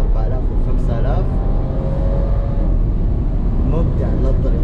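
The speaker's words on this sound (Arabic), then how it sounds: "السيارة لما تكون على سرعة واطية والار بي ام عالي" A luxury SUV engine revving hard at high RPM, a loud continuous roar with a commentator talking over it.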